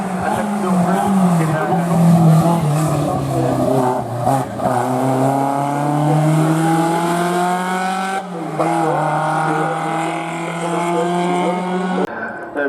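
A blue 1964 Ford Cortina Lotus powers up a hill-climb course, its engine wailing and rising through a few gear changes, with a commentator talking over the roaring car.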